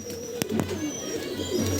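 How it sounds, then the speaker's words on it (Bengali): A white Chotial female pigeon gives a soft, brief coo close by, with a couple of faint clicks or wing taps around it and no talking. "দেখুন এটা হচ্ছে চটিয়াল মাদি পায়রা"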